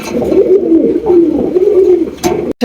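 Loud, close cooing of male German Polish pigeons, a continuous rolling series of low throaty coos repeating in a steady rhythm, ending with a brief scuffle.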